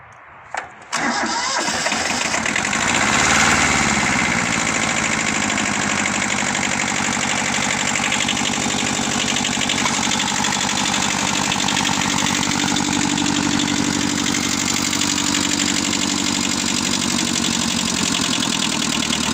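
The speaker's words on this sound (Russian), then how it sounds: "Трактор запустился очень легко." A Kubota B6000 compact four-wheel-drive diesel tractor engine cranks briefly after glow-plug preheating, catches, and settles into a loud, steady clattering idle that runs on without a break.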